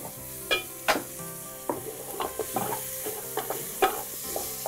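Ginger and garlic sizzling in a frying pan, a steady frying hiss broken by repeated clinks and scrapes of a stirring spoon against the pan, close and fairly loud.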